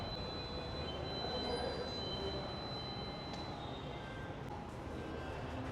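A Pune Maha Metro train heard from inside or close by, with a low steady rumble and faint high whines and squeals running evenly under quiet background noise, no talk.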